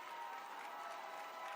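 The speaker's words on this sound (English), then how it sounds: "Everybody on their feet, stomping their feet, cheering on the Bulldogs for a big stop here on 4th down" Football stadium crowd cheering for the Bulldogs on a fourth-down stop, a dense, even roar with no breaks in it. The stomping is not distinct.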